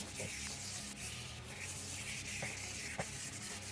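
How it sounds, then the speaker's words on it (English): Continuous rasping of coarse sandpaper rubbed back and forth over the wooden neck of an Ibanez RG270 guitar, close and steady, with a few small knocks. "let's start sanding with the coarser grit"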